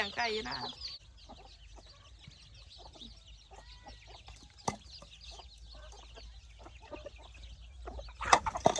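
Chickens clucking around a Lao rice farm, scattered short calls at moderate distance over a steady outdoor background, with people talking nearby.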